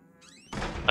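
A door swings open in the survival horror game Outlast, set in a psychiatric asylum: a thin rising creak gives way to a sudden rush of broadband noise and a short bump at the end.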